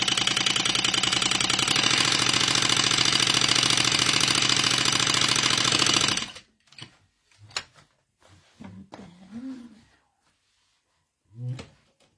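A sewing machine stitching a seam on a crossbody bag, a loud rapid mechanical rattle running steadily for about six seconds, then stopping, followed by quiet handling clicks and rustles.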